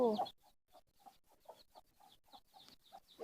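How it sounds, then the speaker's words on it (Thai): A hen makes soft, faint clucks in a quick, irregular string of short notes, heard close but quiet and alone after a brief louder call at the very start. "อันนี่ก็คือไก่ครับ"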